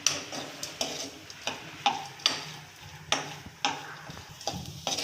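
Dry fruits and raisins being sautéed in a pan, with repeated sharp scraping stir strokes at a steady rhythm over a faint sizzle, moderately quiet and close.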